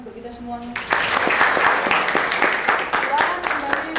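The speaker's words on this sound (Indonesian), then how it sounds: "Tepuk tangan untuk kita semuanya." A classroom audience breaks into lively applause after a brief tonal voice, many hands clapping loudly and steadily to the end.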